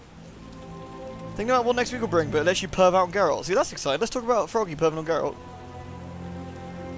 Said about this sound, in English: A real downpour. It is a real downpour.